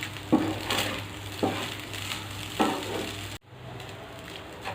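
Paneer fried rice sizzles steadily in a pan, a constant frying hiss with a few louder stirring scrapes, then the sizzle drops off suddenly near the end.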